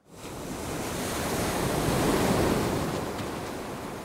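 Cartoon ocean surf rolls in as a broad, steady wash of rushing water, swelling slightly and then easing, with no voices over it.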